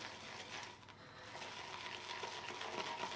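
A shaving brush whipping soap lather in a mixing bowl, giving a steady wet swishing and frothy crackle that runs close and continuous throughout.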